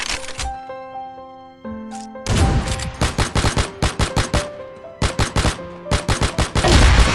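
Sniper rifle fire in the mobile shooter CF Mobile, a rapid string of loud, sharp cracking shots in tight clusters with brief pauses between bursts, preceded by softer tonal game effects.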